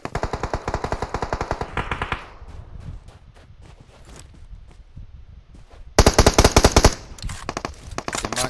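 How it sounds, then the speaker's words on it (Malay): Rapid bursts of automatic gunfire from a video game during a tournament grand final, loud and close, with a quieter stretch of scattered shots in the middle before heavy firing resumes. "Tapi tembakan yang akan cuba dilepaskan"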